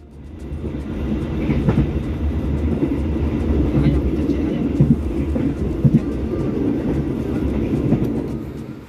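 The Sri Tanjung passenger train rumbles past Buaran station nearby, its heavy low roar steady, with occasional clacks from the rails and faint birds in the background.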